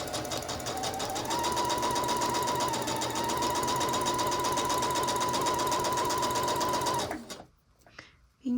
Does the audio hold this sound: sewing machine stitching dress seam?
yes